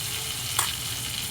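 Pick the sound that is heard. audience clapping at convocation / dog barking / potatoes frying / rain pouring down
potatoes frying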